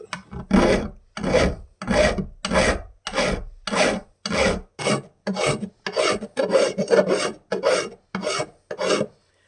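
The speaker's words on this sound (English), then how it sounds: "notice I'm filing at about a 30-degree angle" A coarse file rasps across the wooden body of a Telecaster-style guitar in steady, evenly spaced strokes, about fifteen of them, each a short scraping burst separated by a brief pause. The strokes are close and clear and nobody speaks.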